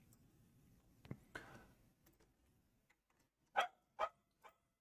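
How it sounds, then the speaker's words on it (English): Dogs barking inside a house, a few sharp barks near the end, loud and close, preceded by quieter muffled rustling and faint knocks in a mostly still room. "They're barking like they're going out for a walk by the sounds of it."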